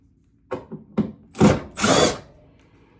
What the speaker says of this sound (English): Out go those screws.